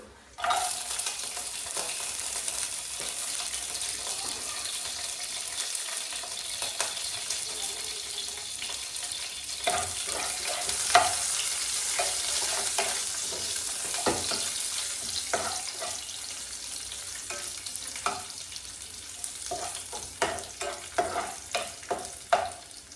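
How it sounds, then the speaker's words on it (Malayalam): Cashews and raisins frying in Milma ghee give a steady, dense sizzle with intermittent stirring scrapes and clinks that build toward the end, heard close up without any voices. "ഞാൻ ഒഴിച്ചു കൊടുക്കുന്നത് മിൽമ നെയ്യാണ് അണ്ടിപ്പരിപ്പ് കിസ്മിസ്"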